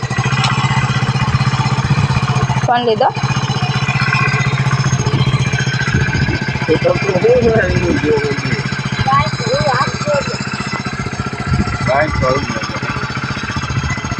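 A motorcycle engine runs steadily with a low droning rumble throughout, while people talk over it.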